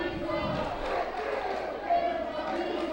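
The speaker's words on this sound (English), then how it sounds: "The old "Where's my pizza" chant" A capacity crowd at the NCW Arena chants during an NWA Wildside wrestling match, a dense rhythmic roar of many voices filling a large indoor space.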